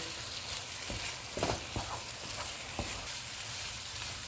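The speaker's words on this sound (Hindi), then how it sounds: "खोए को मिक्स करने के बाद इसमें हम घी डालेंगे और इसको अच्छी तरह भून लेंगे।" Khoya and grated carrot roasting in ghee for carrot barfi, with a soft steady sizzle and occasional spoon scrapes, close and quiet.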